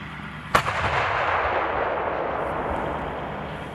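A single loud, close M109A7 Paladin self-propelled howitzer round fires with a sharp blast, followed by a long rolling rumble and reverberating echo that slowly fades across open ground.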